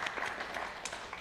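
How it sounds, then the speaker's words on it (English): Faint, distant applause from a small group, a soft patter of clapping lasting about a second. "I think that that deserves a round of applause"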